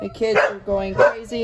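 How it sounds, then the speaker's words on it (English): A dog barks excitedly a few times in the background while a person talks over it nearby. "and now the dog is going crazy"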